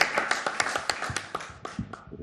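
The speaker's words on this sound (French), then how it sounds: "ces acclamations, c'était pour toi, mon frère, ma sœur, pour te dire bienvenue dans la grande famille chrétienne" A church congregation claps in sharp, irregular bursts, many hands striking close together before thinning out and fading near the end, with a few voices calling out beneath.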